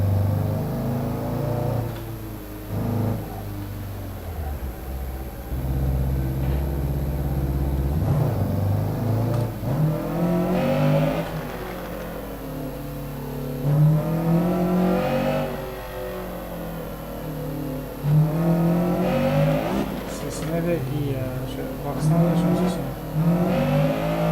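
A lowered Honda Civic EG drives past with its engine rising and falling through repeated revs, a loud close rumble and whine throughout, with people talking over it.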